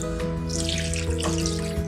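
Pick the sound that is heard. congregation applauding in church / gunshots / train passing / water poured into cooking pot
water poured into cooking pot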